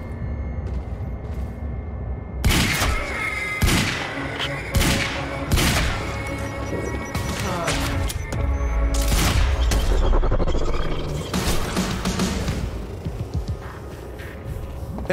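Gunfire in the action game Quantum Break: loud, sharp shots ring out in uneven bursts over a continuous rumbling game soundscape, with occasional heavier booms.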